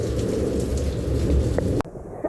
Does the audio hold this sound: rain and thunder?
yes